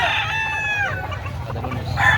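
A gamefowl rooster crows close by, one full drawn-out cock-a-doodle-doo with a rising start, held middle and falling tail, followed by a shorter call. A steady low hum runs underneath.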